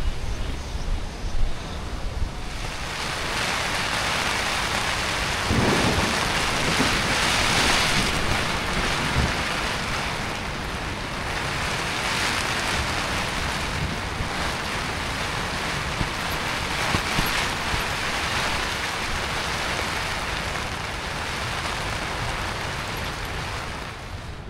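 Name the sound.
strong wind and storm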